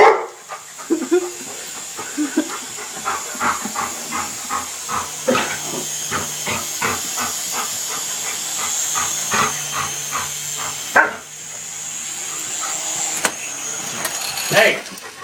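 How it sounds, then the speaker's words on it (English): A dog barks in a rapid string of sharp yaps beside a remote-controlled helicopter, whose loud steady hiss and whine runs throughout. The barks are close and persistent over the engine noise. "He was barking. That was real barking."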